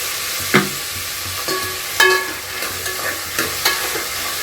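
Vegetables for pulao, beans and peas among them, being stirred and fried in a pan, with a steady sizzle broken by several sharp scrapes and clacks of the spoon against the pan.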